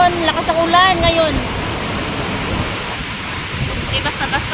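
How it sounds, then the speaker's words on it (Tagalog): Heavy typhoon rain and strong waves roar as a dense, steady rush of water near a fishing village market, with someone talking over it at the start and end. "Lakas ng alon, lakas ng ulan ngayon."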